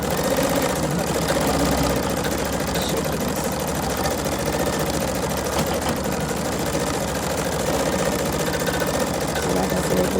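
A Husqvarna Viking Sapphire 85 sewing machine runs a test stitch-out, a loud, steady mechanical whir and rapid rattle with slight shaking, continuous for about ten seconds.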